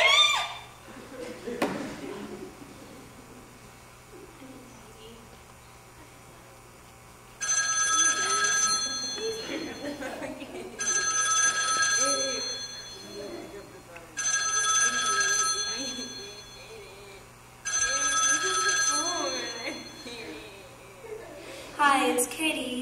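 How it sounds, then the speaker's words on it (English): An unanswered telephone rings in four long repeated bursts, fairly loud and close, with gaps of quiet between them and some faint talk in the background. "Katie, if you don't pick up this phone right now, I'm coming over there."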